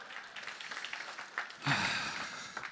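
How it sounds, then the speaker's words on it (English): Conference audience applauding as a lead engineer is welcomed on stage, a steady soft wash of clapping that swells near the end, with brief speech underneath. "Everyone give him a round of applause"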